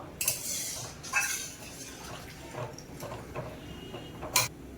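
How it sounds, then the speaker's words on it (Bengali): A spatula scrapes and knocks inside a pot of fish and potato curry: scattered light clinks and taps over a low simmering background, fairly faint and near, with no talking. "জল দেওয়ার পরে খুঁটি দিয়ে ভালো করে নেড়ে দেবো"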